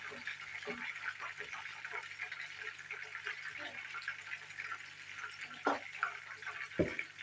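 Pieces of Albanian-style liver frying in hot oil, a soft steady sizzle and bubbling with a few sharper pops and clatters near the end.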